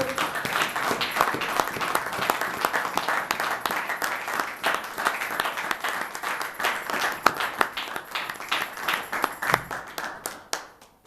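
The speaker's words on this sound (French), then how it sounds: "On acclame très fort pour la parole de Dieu" Congregation at a seminar of Église La Colombe in Wiesbaden clapping hard and steadily, a dense, loud wash of many hands that runs the whole time with no break.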